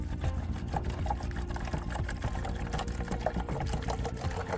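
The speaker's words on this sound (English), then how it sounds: "Pour the warm water into a mixing container." About a liter of warm water pours into a mixing container, a steady splashing gurgle with small irregular bursts, close and continuous with no talking.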